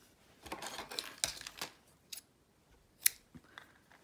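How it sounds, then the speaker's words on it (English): Scissors snip through a string in a few sharp, close, quiet clicks spread over a few seconds, with no talk. "I'm gonna cut that string off."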